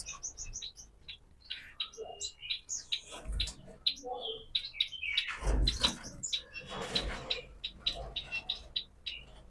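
Yellow golden finches at a breeding setup chirp and tweet in quick, bright bursts throughout, several birds calling over one another at close range, with faint voices in the background.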